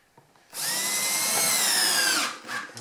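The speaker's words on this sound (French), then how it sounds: "Je viens visser mes charnières." A power drill driving screws through hinges into wood with a jig: one loud, steady whirring run of about two seconds that winds down, then a brief rattle.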